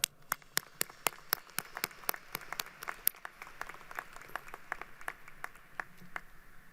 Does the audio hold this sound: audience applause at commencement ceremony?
yes